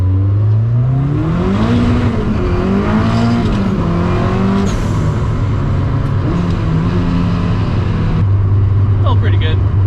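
A fully caged Mazda Miata on a cold street pulls hard through first gear, then second. The engine rises loud and close, drops at the shift and climbs again, with a voice faintly audible over it.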